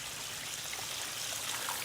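A garden water fountain trickles steadily outdoors, a soft continuous splashing wash with no breaks and no voices over it.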